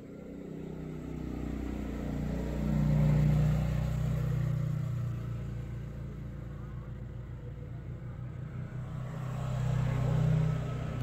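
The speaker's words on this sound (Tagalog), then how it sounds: "Ang daming dumadaan na mga motorsiklo ngayon" Motorcycles passing along a road, engines swelling loud as they approach and fading away, with a steady low rumble between passes.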